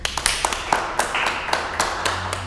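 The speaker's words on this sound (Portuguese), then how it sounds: "Aplausos." A small group clapping after a fencing bout, a brief spell of irregular, close-up, distinct hand claps.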